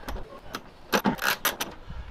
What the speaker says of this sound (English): we're gonna tighten the 8mm bolt that holds the clip